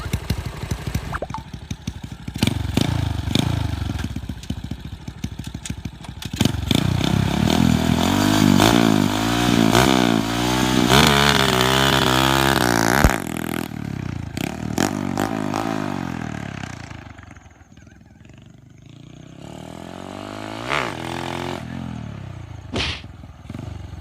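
A Honda Wave motorcycle engine idling and revving up close, with rising and falling whines from several throttle blips, then a sudden cut to a quieter idle with scattered knocks and clatter.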